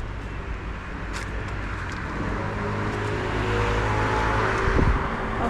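Road traffic rumbling along a roadside while cycling beside the Marne river and canal in autumn, a steady broadband drone of passing cars that grows a little louder toward the end, with no talking.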